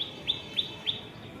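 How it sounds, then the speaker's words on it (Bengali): Small tailorbirds call from a tree, three sharp, high chirps evenly spaced about a third of a second apart, clear and moderately close over a quiet background. "ছোট্ট ছোট্ট টুনটুনি পাখিগুলো, ওগুলো তো খুব ডাকে।"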